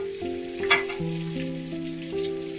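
Masala of red chili powder and spices frying in a pan for an egg dish, stirred as it cooks: a steady close sizzle with a brief louder scrape of the spoon, no talking.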